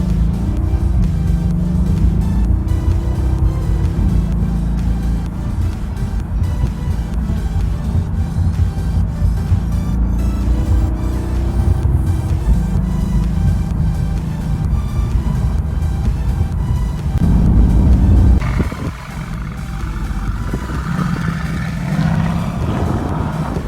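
A Mercedes-AMG GT supercar heard from the passenger seat while driving, a loud sustained engine drone with rising and falling revs, wind rush over it, and a sudden drop in tone near the end as the car eases off.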